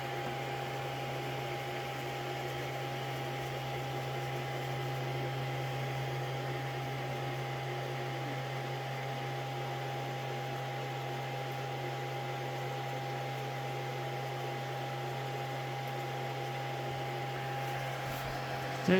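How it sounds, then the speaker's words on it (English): An Anycubic Kobra 2 Max 3D printer runs its automatic bed leveling, giving off a steady, even mechanical hum with a faint whine on top. The drone holds level throughout, with no talking. "It's doing the automatic bed leveling."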